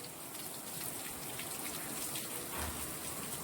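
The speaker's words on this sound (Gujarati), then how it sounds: "જોરદાર વરસાદ ચાલુ છે અત્યારે." Dense, steady rain pours down without pause, a loud continuous hiss of drops hitting surfaces with no voices or other sounds.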